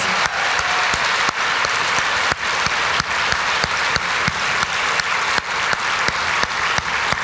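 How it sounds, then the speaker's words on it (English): An audience at a talk gives a round of applause, many hands clapping steadily with several loud, sharp claps nearby punctuating the continuous wash. "So would you please give them another round of applause?"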